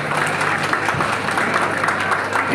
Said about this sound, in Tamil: ஒரு பெரிய கைத்தட்டை கொடுங்க எங்கள் தாவோ என்ற கவிஞருக்கு